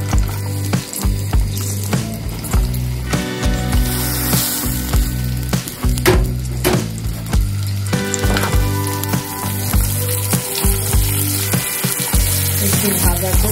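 Semai vermicelli frying in oil in a pan for a Bengali milk shemai dessert, a steady close sizzle and crackle with stirring scrapes running throughout, accompanied by background music.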